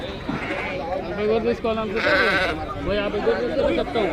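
Sheep bleat repeatedly in a dense, overlapping chorus nearby at a livestock market in Pebbair, with people talking prices over the flock.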